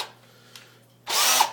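A power drill with a thread tap in its chuck spins up in low gear, a short loud whine that bursts in after a near-silent pause and runs steadily to the end.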